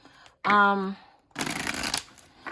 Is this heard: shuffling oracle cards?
yes